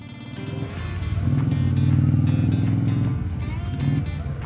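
V-twin motorcycle engine heard from the side while riding, a low throbbing drone that swells and holds in the middle, then eases, mixed with rushing wind noise.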